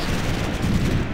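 Heavy gunfire in the real-time strategy game Ground Control II: a dense, loud, continuous barrage of shots and booming impacts with no pauses and no talking.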